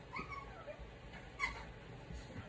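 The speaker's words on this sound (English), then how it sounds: "my dogs are going a little crazy" Dogs yip and whimper faintly in the background of a quiet room, a few short high cries scattered across the moment with one slightly sharper bark-like burst.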